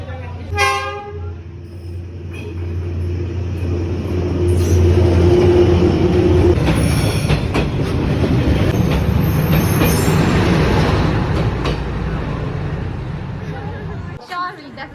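A train rumbles past close by on a narrow street in Hanoi, Vietnam, its roar swelling and fading, with a horn toot early and squealing wheels; voices are faintly audible.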